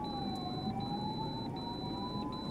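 An ambulance siren wails steadily in a traffic jam on a highway drive from Andhra Pradesh to Tamil Nadu, its tone sliding slowly upward over a constant traffic rumble, continuous and moderately distant, with no voices.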